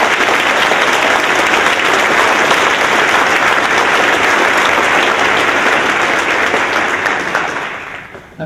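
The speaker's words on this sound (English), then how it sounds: "Please give them a round of applause." A large crowd claps steadily and loudly for about eight seconds for a university Formula SAE student car team at its unveiling, the dense applause tapering off near the end.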